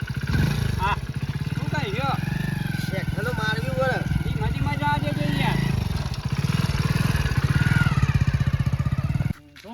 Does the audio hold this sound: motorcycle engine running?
yes